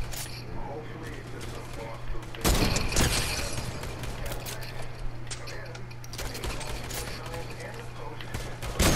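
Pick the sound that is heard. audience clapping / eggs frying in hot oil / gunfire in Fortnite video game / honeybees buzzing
gunfire in Fortnite video game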